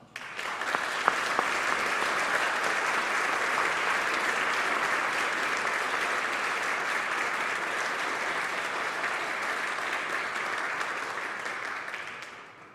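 A lecture hall audience at the King Institute for Faith and Culture applauds to welcome speaker Esau McCaulley, a dense, steady wash of clapping that holds evenly for about twelve seconds before tapering off, with no talking over it.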